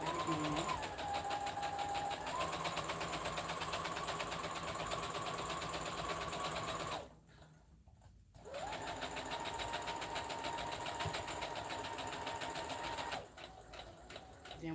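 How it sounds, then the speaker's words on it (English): A sewing machine stitches along the edge of fabric in two long, steady whirring runs, close and clear, separated by a short pause where the motor stops, then a brief restart at the end. "I'm gonna stitch along the side."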